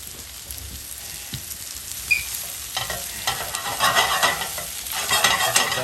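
Mushrooms hit a hot pan with butter and garlic and start to sizzle, the frying growing louder and denser as they are stirred. Close and steady, with no talking.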